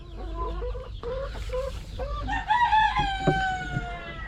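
Hens and a rooster in a spacious coop cluck and call in overlapping bursts, joined by a rising crow near the end, close and fairly loud with no talk.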